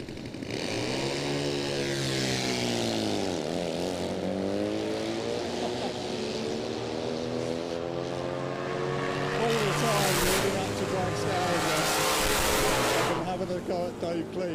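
Supercharged Triumph drag bikes, including the Puma Triumph, rev and scream at a drag strip, engine pitch sweeping up and down, then a louder blast as they launch, with a commentator talking over it.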